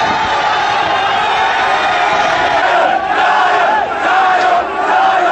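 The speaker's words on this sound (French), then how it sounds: "il a été accueilli à l'aéroport par le ministre de la Culture en compagnie d'une foule en liesse" A jubilant crowd at an airport welcomes a reggae artist with continuous loud cheering and shouting, a dense wall of voices that stays strong throughout.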